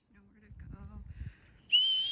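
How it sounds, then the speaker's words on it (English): A whistle gives a short, loud, shrill blast at the end, after a stretch of faint low murmuring. "She's got the whistle."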